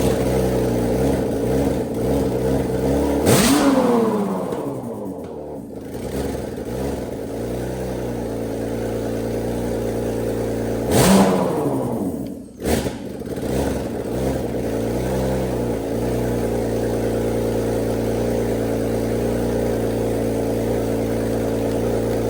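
A BMW M54 engine on standalone wiring idles steadily and loudly, then revs up sharply twice with a rising and falling whine, each rev dropping back to a near-stall before settling into idle again, with no talk.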